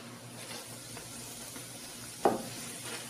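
Aloo paratha frying in oil on a flat pan, a soft continuous sizzle and hiss with one brief louder crackle burst near the end, no talk.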